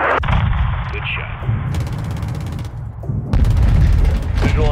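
Call of Duty Modern Warfare 2 fire support: heavy artillery booms and explosions rumbling through the battlefield, loud and close, with bursts of in-game radio chatter over the blasts.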